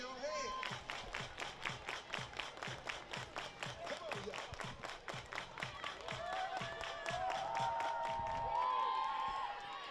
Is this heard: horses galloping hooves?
no